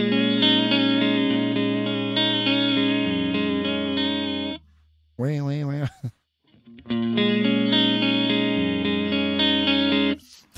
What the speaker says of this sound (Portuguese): Então você tem um som bem vintage, assim, de chorus, né?